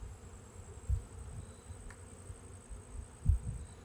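Honeybees buzzing around an open hive during a fall inspection, a faint steady drone with a couple of louder close bumps or passes, and no one speaking.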